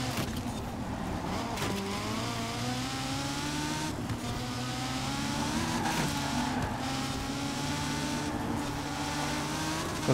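Race car in Forza Horizon driven hard through a race, its engine droning steadily with rising and falling pitch as it shifts through gears, loud and continuous for the whole stretch without talk.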